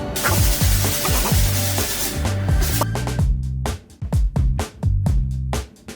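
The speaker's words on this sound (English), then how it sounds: "it's been a couple days, so it's time to sand" Sandpaper rubs against a bedroom wall before priming. Steady dense scraping first, then separate rhythmic back-and-forth strokes, close and fairly loud, no voices.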